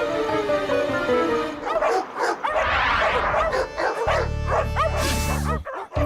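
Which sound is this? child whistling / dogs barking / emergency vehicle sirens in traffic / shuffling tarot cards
dogs barking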